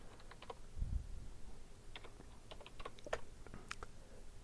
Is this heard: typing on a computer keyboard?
yes